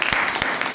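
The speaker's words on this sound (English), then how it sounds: "Everybody give him a round of applause," Applause for an Army lieutenant colonel guest speaker in a military science class, a dense, steady patter of many hands clapping close by for under a second with no voices over it.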